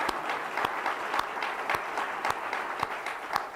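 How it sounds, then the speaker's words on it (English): An audience claps for John Simpson at a talk on prairie roots, a steady patter of many hands punctuated by a few sharper individual claps, moderate and fairly quiet. "We're going to clap for him in absentia, so we can say that we did it"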